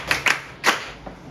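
A few scattered hand claps, about three or four quick separate smacks, fairly close and soft in a quiet room.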